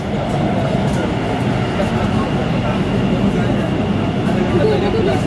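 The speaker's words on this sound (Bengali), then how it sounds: "আমাদের মেট্রো ঢুকছে।" A metro train pulls into a station platform with a loud, steady rushing rumble that fills the space, while people talk nearby.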